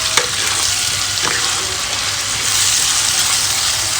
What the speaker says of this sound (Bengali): ভালো করে আমি মিক্স করে নেব